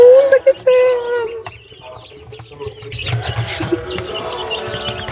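Chickens cluck and baby chicks chirp at a farm, high cheeps and clucks nearby, with people talking over them.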